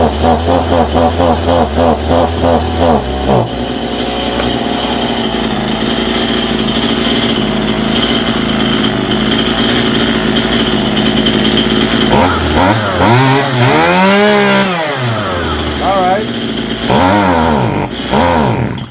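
A Stihl MS171 chainsaw with a carburetor problem revs loudly and close by, falters into a lower bog, then surges and drops in pitch again in uneven bursts before briefly picking back up.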